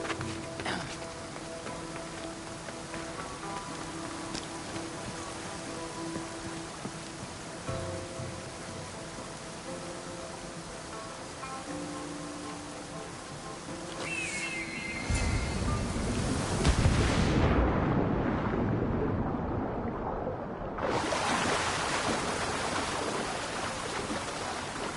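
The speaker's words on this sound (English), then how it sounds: "This is the waterfall." Waterfall in Assassin's Creed Odyssey, a steady broadband rush of falling water that swells louder midway and briefly drops out before returning, no talk.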